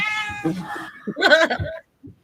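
Two cats yowling and meowing close by, a long wavering caterwaul followed by shorter rising cries, with a brief soft vocal sound at the end.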